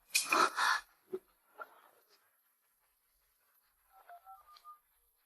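A telephone being dialed, a quick run of short electronic keypad tones near the end, preceded by faint rustling and breathing-like sounds in an otherwise quiet room.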